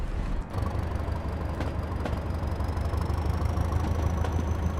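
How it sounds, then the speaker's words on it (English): A loud, steady diesel engine of an AP Class 205 train roars with a deep rumble at full throttle, running continuously at high power from close by on jointed track. "we're going to open up the throttle, full power. Let's listen to the engine"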